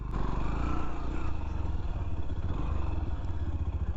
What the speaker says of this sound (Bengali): এখানে যদি আমি একটু রেভ করে বের হয়ে সেক্ষেত্রে বাইকটা ফিশ টেইলের মতন করছে কিনা